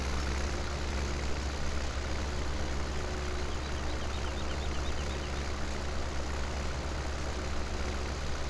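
Tractor engine idling in the farming game Farming Simulator 17, a steady low hum that holds without change and carries no voices.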